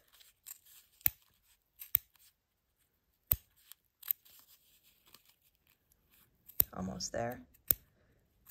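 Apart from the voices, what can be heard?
scissors cutting fabric around a Dresden plate circle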